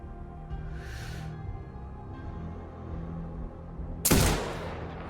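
Sniper rifle fired in the game Sniper Ghost Warrior Contracts 2 during a desert mission, one sharp loud crack near the end with a short tail after it, following quiet ambient game sound.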